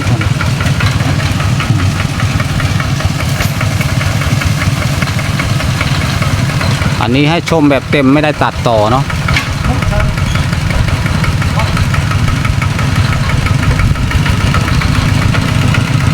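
A hand-started walking tractor engine runs steadily at a loud, close, knocking idle in rural Surin, Thailand, with someone briefly talking over it midway.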